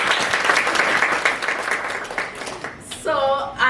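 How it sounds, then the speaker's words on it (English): An audience at a women's business event claps for Sherry, a loud, dense burst of applause that fades out over a few seconds before a voice briefly follows. "So can you please clap for Sherry once again?"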